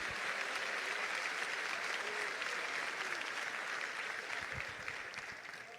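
A church congregation claps in dense, steady applause that fills the room and tapers slightly toward the end.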